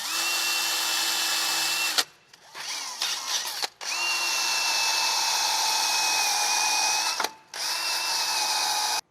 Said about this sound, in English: So I've got myself a little wire brush here on a drill